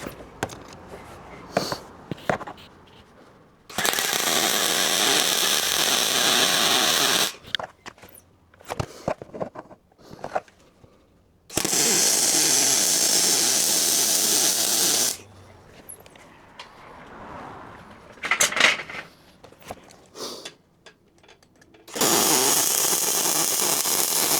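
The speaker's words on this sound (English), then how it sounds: "Not the prettiest weld, but I'm sure I'll get better." Steel is welded for a solar panel frame, a loud steady crackling hiss sounding up close in three long bursts of several seconds each, separated by quieter stretches of clinks and handling noise.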